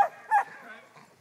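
A dog in a sheep pen lets out short yips and whimpery barks while herding sheep, close to the recorder, over faint background noise.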